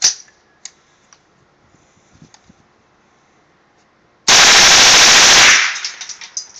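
An M&P 15-22 rifle with a slide fire stock fires .22 LR CCI Viper rounds in one loud, rapid burst lasting just over a second, followed by fading metallic pings, after a stretch of faint clicks and handling.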